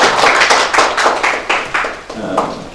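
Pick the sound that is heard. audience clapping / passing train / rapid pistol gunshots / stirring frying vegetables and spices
audience clapping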